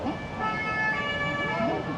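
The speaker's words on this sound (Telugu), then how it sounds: "ప్యారిస్లో అంబులెన్స్, ఫైర్ సర్వీస్ కూడా చాలా రియాక్టివ్గా ఉంటాయి" An ambulance siren wails on a Paris street at night, a sustained tonal wail heard from the moving tour bus over traffic hum, with a voice talking faintly.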